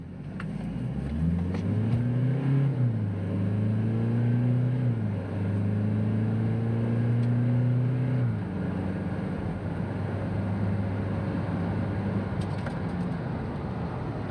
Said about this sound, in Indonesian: Kita akan lihat full throttle tanpa tahan gas.